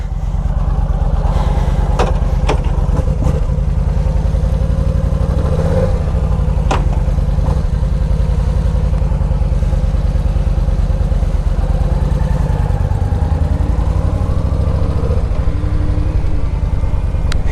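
A 2012 Yamaha V Star 950 Tourer motorcycle rumbles along on a ride, its engine drone loud and continuous throughout with wind buffeting and gentle rises and falls in revs.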